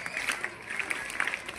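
Audience at a school prize ceremony during a festival of arts and sports claps in a brief, dense burst of applause, moderately loud and continuous throughout.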